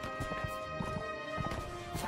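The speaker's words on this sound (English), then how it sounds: "My horse is going way too slow." Horse hooves galloping in the video game Mount & Blade: With Fire and Sword, a steady rhythmic clip-clop running continuously over game sound with a faint whinny.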